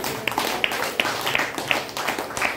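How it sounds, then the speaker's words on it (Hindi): A small audience at a presentation claps in an even rhythm, sharp separate claps roughly three per second, fairly close and moderately loud over a light room background. "एक बार इसके लिए जोरदार ताली।"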